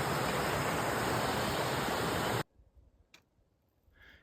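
Loud, steady rushing water from a small waterfall on the Appalachian Trail fills the first half, then cuts off abruptly, leaving quiet woods with a couple of faint ticks and rustles.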